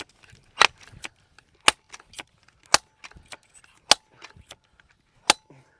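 Sharp, irregular mechanical clacks and snaps of an air dart gun being pumped and readied near bison, about a dozen crisp strikes separated by quiet gaps.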